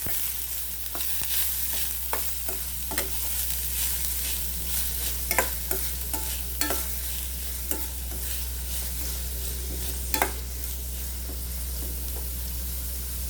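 Four finely chopped large onions sauté in a pan, giving a steady close sizzle broken by repeated sharp scrapes and clicks as they are stirred.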